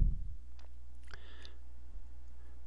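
A computer mouse clicks once, a short faint tick followed by a couple of softer taps against a quiet room hum.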